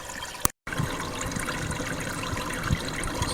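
Water runs steadily through a gold cleanup sluice, a Miller table used for final cleanup, giving a close, continuous trickling wash with a brief dropout near the start.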